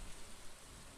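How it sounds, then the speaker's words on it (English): Steady heavy rain pours in a Stardew Valley farm scene, a dense, unbroken hiss of downpour filling the whole moment with no voices. "demoralized by the relentless downpour"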